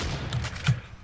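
Gunfire striking the player in a multiplayer shooter game, a couple of sharp bursts with low thumps over a dense, steady background of game noise, loud and close.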